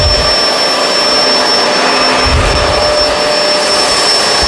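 Kenmore Crossover Ultra vacuum cleaner running on carpet, a loud, steady, close whine and roar that stays unbroken throughout, with a high tonal note, no talking.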